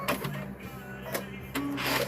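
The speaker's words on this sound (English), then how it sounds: "We're going to sew just a little bit closer there." A sewing machine stitches close to the edge of a fabric bowl cover, running in short mechanical bursts with a whirring hum between brief pauses, nearby and fairly quiet.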